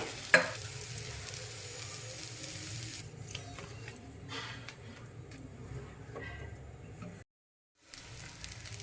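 Holige, a sweet chana dal flatbread, frying in oil on a hot griddle, giving a continuous close sizzle with a sharp clatter at the start, then softer crackling and a brief silent gap near the end.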